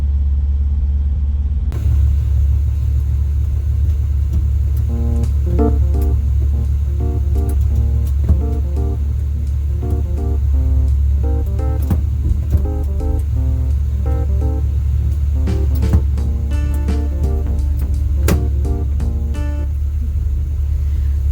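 Low steady engine rumble of a 1957 Chevy driving on the road, constant and close, with faint rattles and hiss of driving over it.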